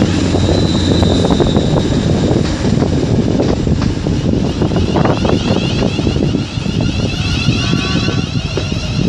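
A London Midland class 350 electric train passes through a station, a loud, steady roar of rushing wheels and air buffeting the microphone throughout, close by, with no voices.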